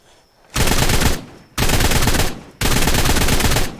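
Three long sustained bursts of automatic assault rifle fire in Ark: Ragnarok, loud and close, each lasting about a second with brief gaps between, no talking.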